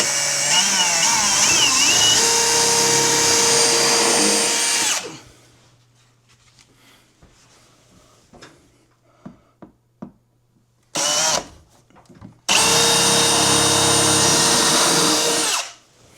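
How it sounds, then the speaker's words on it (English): A power drill bores mounting-bolt holes for a replacement microwave, two loud sustained bursts of about five and three seconds separated by a quieter stretch of faint handling clicks and a short buzz. "So now I'm going to go ahead and drill the holes."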